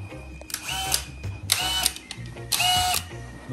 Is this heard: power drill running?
yes